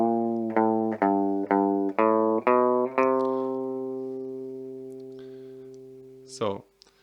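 Twangy rockabilly electric guitar on a guitar fitted with a Bigsby vibrato: a run of repeated plucked notes settles into a long sustained ringing tone that fades slowly, then ends with a brief scrape.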